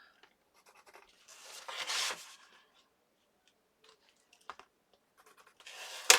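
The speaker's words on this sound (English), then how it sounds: "Let me mark it with a pencil" Pencil marking on packaging material for a junk journal: soft scratchy graphite strokes, a short burst of scribbling in the middle and another at the end, with faint rustling between, close and quiet.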